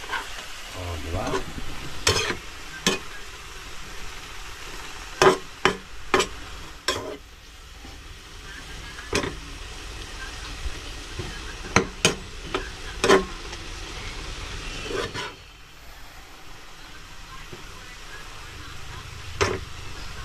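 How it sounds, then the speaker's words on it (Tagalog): Hotdogs fry in a pan with soft steady sizzle, broken by repeated sharp scraping clicks of a utensil stirring them, spaced irregularly over twenty seconds, close and without talk. "Bago uli natin haluin ng konti pa"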